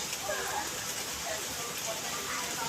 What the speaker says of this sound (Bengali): বাইরে ওয়েদারটাও খারাপ বৃষ্টি হচ্ছে